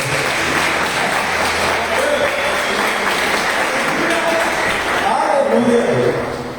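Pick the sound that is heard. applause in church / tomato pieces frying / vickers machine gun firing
applause in church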